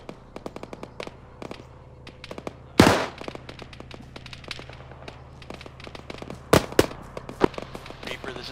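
Heavy .50 cal machine gun fire in Arma 3, sharp cracks and short rattling bursts scattered irregularly, a couple of louder close booms standing out over a constant low background hum.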